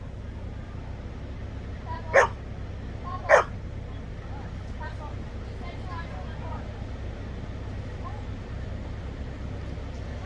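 Two short, sharp dog barks, about a second apart, ring out on a porch in Dry Ridge, Kentucky, over a steady low background hum, followed by faint scattered yips.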